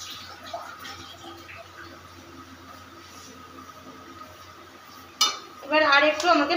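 Chowmein being tossed and stirred with red chili sauce and tomato ketchup in a pan, with soft scraping through a low hum, then louder clattering metal-on-pan mixing strokes near the end.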